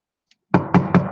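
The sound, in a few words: knocking on stainless steel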